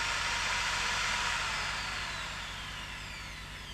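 Power drill boring out rivets that hold the window guide to the C-pillar of a BMW E30 convertible, a steady close whine that holds and then slowly tapers off, with no voices.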